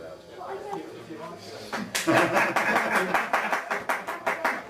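A small audience claps at a book interview event, starting after some laughter and chatter, with a distinct rhythmic clapping pattern that grows louder and more regular.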